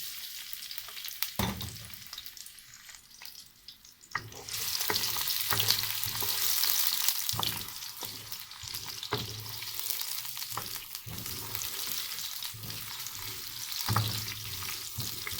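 Sliced onions frying in hot oil for a kofta curry, a steady close sizzle that swells louder after a few seconds, with intermittent stirring scrapes and clanks against the pan, no talking.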